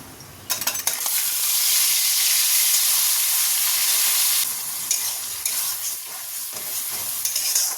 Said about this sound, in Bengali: প্রথমে অল্প একটু কালো জিরে ফোড়ন দিয়ে দিলাম টমেটো আর কাঁচা লঙ্কা পেস্ট